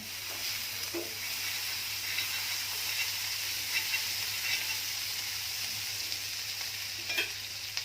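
Butter sizzles and hisses steadily on a hot griddle for pav bhaji bread, a constant frying crackle with occasional scraping.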